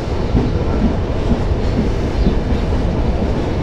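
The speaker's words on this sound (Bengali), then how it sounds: "ট্রেন আবার সিগন্যাল পেয়ে ছেড়ে দিল।" Banalata Express rolling on after getting the signal near Amnura bypass, a loud steady rumble of wheels and carriages with a continuous clattering rhythm, no voices.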